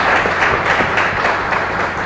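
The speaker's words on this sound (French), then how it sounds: "Je vous prie également d'applaudir notre ami Jovial." An audience in Lubumbashi applauds with dense, steady clapping that fills the whole moment evenly, without a clear rise or fall.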